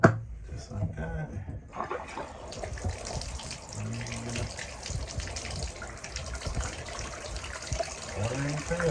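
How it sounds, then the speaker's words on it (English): Water pours steadily from a bathtub faucet into the tub in a bathroom during a drain repair, a continuous close rushing gush heard under intermittent talking. "Water in the tub."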